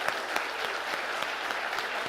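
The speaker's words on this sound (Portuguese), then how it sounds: "Dê uma salva de palmas para Jesus Cristo." A church congregation applauds in a steady, even wash of many hands clapping, sustained and moderately loud throughout with no voices standing out.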